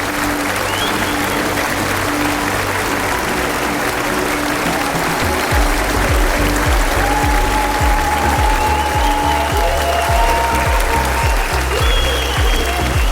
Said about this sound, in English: Let's all clap together